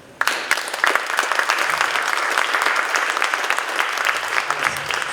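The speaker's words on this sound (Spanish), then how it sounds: "les pido un fuerte aplauso" A theatre audience applauds at a book presentation, with loud, dense clapping that begins abruptly and holds steady to the end.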